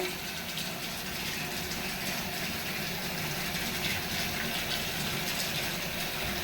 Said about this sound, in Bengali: আস্তে আস্তে আস্তে আস্তে আস্তে একটু পানি ভরু,